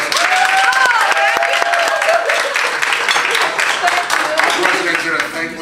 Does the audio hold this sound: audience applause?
yes